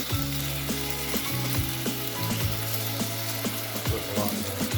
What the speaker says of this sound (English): I just want to coat that thing in that caramelized sugar.